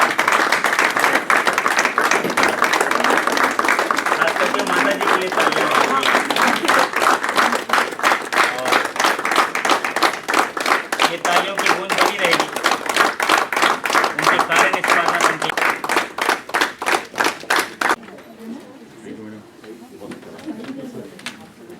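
An audience claps at a farewell function with a brisk, dense rhythm that grows into distinct rhythmic beats. Voices talk over the clapping, and it stops abruptly near the end, leaving quiet murmuring.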